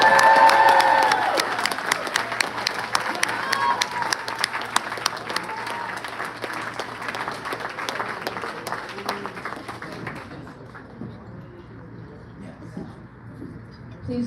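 A crowd at an indoor sports awards dinner applauds loudly, sharp claps and some cheering at first, then the clapping thins and fades away into near silence.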